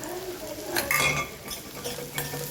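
Sugar and crushed gathiya are stirred in a pan, with several quick scraping, rustling sweeps of a spoon close by over a faint background sizzle.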